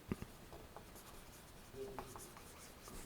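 Pen or marker writing out a phrase on a surface, heard as quiet, faint scratchy strokes with short gaps between them, alone in a hushed room.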